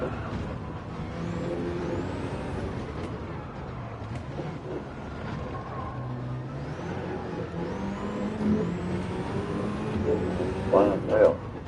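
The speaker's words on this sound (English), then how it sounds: "I think I'll be able to catch this car if I don't make a mistake." Racing cars in a Gran Turismo race, with a steady engine roar rising and falling through gear changes over a long stretch and swelling toward the end, heard under talk.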